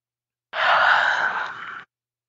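One long, breathy yawn lasting about a second, close and clear against silence, during a calm relaxation exercise.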